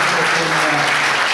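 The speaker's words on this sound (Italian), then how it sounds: "se volete scatenarvi in un applauso collettivo" Loud collective applause from the audience closing a mayoral candidates' debate in San Lazzaro, a thick continuous roar of clapping across the whole short stretch.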